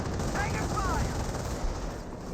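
Rapid gunfire crackles through a Company of Heroes battle between US and Panzer Elite forces, a dense, continuous rattle of shots over low rumbling battlefield noise.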